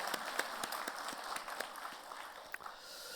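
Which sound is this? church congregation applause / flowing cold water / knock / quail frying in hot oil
church congregation applause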